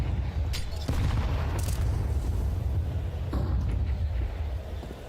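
Grenade blasts in a Counter-Strike pro match at IEM Cologne 2025, heavy low booms with a sharp crack near the start and another around three seconds, over continuous rumbling game noise.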